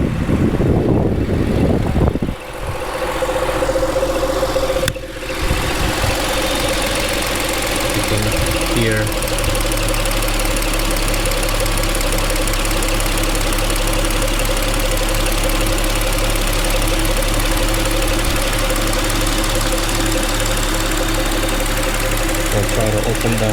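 An Audi 3.0T engine idles steadily with a faint clicking caused by a PCV problem. The even drone runs throughout, and a person speaks briefly at the start.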